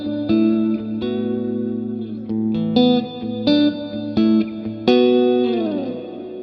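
Electric guitar notes and chords ring out through a reverb pedal's large hall setting, each strike sustaining and trailing off into a wide wash of sound.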